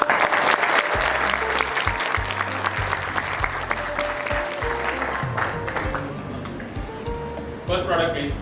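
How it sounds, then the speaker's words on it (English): Audience clapping at an anniversary celebration and product launch, broad clapping noise running throughout while music and voices play over it, swelling again near the end. "तो let's have a clap for it."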